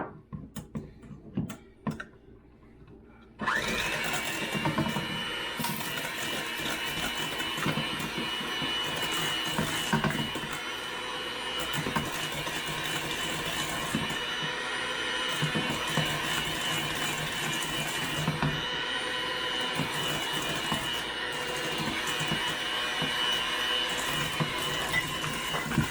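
An electric mixer whirs steadily as sugar goes into cheesecake batter, a continuous loud motor drone after a few short clatters at the start.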